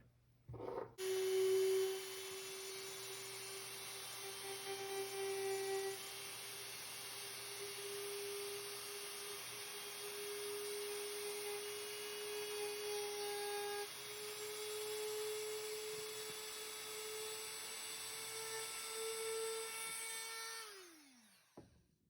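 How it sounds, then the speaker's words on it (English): A Dremel rotary tool grinds down an airsoft R-hop part for an ASG EVO Scorpion, holding a steady high-pitched whine for about twenty seconds before spinning down. "we're just gonna Dremel that off"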